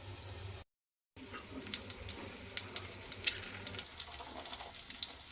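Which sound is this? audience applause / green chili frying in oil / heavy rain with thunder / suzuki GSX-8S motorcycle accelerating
green chili frying in oil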